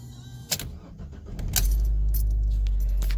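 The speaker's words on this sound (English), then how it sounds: "Hold on, let me turn the car on." Keys jangle close up, then a Fiat Bravo's engine turns over and settles into a steady, loud idle that fills the rest of the moment.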